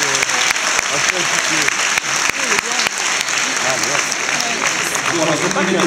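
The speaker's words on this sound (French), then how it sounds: "applaudissons Bernard" Applause in a university lecture amphitheatre for a guest, a full, sustained wash of many hands clapping, loud and even from start to finish, with faint voices mixed in.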